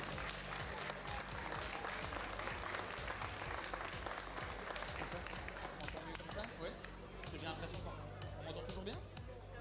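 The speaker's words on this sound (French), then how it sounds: "je pense qu'on peut encore applaudir une fois l'équipe de Bouillon" Audience applause at a FIRST LEGO League Cargo Connect robotics competition in Ciney, honouring a team making its first appearance; dense, steady clapping over crowd hubbub and a low hum, continuing throughout.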